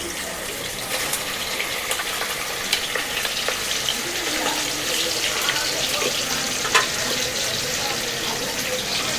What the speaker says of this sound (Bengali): আমার বড় মাছটা এখন ভাজা হয়ে গেছে